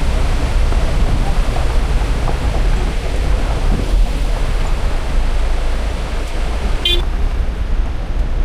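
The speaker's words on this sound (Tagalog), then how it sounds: "lakas ng agos ng ano, tubig" Strong, loud rushing current of water near Piduan Falls in Misamis Occidental, a steady broadband roar filling the whole stretch, with a brief faint tone near the end.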